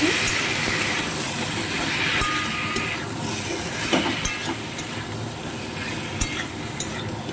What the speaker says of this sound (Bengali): এবার আমি লবণ হলুদ মাখিয়ে রাখা শোল মাছের টুকরোগুলো দিয়ে দিচ্ছি একটু কষিয়ে নিচ্ছি